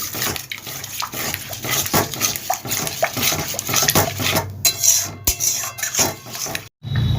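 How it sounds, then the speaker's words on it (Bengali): A spatula stirs and sautés spice paste with added water in a pan for a Bengali soybean curry, giving a close, busy run of metallic scrapes and clatter with a sizzling wash underneath, briefly dropping out near the end. "জলটা দিয়ে ভালোভাবে কষিয়ে নিতে হবে"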